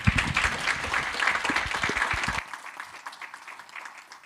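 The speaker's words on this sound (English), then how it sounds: "a round of applause for our panelists." Audience members clap loudly for conference panelists, a dense burst of applause that cuts off abruptly partway through and leaves a quieter room tone.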